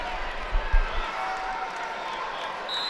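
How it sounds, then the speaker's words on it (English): Crowd noise in a high school basketball gym during a boys regional tournament semifinal, a steady murmuring hubbub with a couple of low thumps early on, moderately loud and diffuse. "I want to turn the crowd noise down just a bit"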